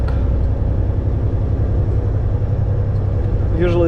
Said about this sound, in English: UPS truck.